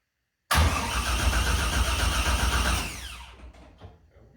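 A 1969 Camaro engine fires up for the first time, erupting into a loud, rough roar that holds steady for about two and a half seconds before cutting out and winding down into fading rattles.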